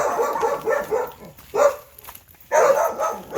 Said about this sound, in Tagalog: grabe pala rito ang mga aso